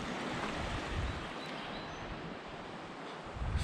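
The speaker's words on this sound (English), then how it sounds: "Not much to this waterfall compared to the last one." A small waterfall in the Ontario backcountry gives off a steady, broadband rush of falling water, continuous and fairly close, with wind buffeting the microphone now and then.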